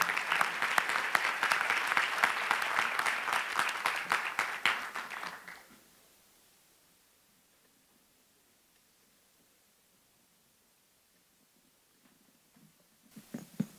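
A crowd at a national prosecutors' congress opening ceremony applauds with dense, steady clapping for about five seconds, then it fades into quiet room noise before a few scattered sounds return.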